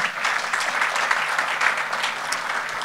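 Audience applause at a public event in Courbevoie, France, on fighting food waste: a dense, steady wash of many hands clapping together, close and fairly loud throughout.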